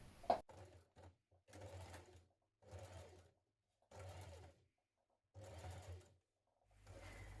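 Sewing machine hemming a blouse edge with a double fold, stitching in short separate bursts of about a second each with silent pauses between, close and fairly quiet.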